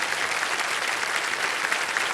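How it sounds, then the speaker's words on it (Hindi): A studio audience at the KBC quiz show breaks into dense, steady applause, the sustained clapping filling the whole moment at moderate volume with no talk over it. "और तालियां बज जाए इनके लिए।"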